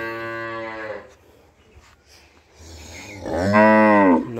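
A household cow let out into a yard gives two loud, close, harmonic moos, the first steady for about a second and the second rising and falling after a brief quiet gap.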